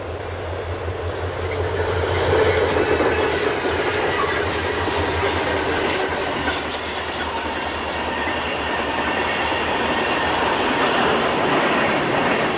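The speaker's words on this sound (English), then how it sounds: "Ed recorded this northbound hopper train at track speed." A long northbound coal hopper train rolls past at track speed, a loud continuous rumble with rhythmic wheel clatter and a faint squeal high above it.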